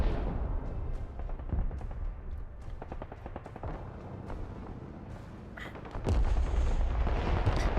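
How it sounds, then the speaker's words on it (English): Repeated artillery shelling from several players in the war game Broken Arrow, a steady run of booming impacts and thuds with a heavier, louder barrage near the end, no talking. "It's multiple players' artillery actually back there."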